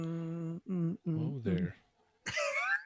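A man clears his throat, a few rough guttural bursts close to the microphone, with speech around them.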